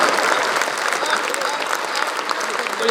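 A crowd in an auditorium at a comic poetry event breaks into sustained applause, loud and even, with a faint murmur of voices mixed into the clapping.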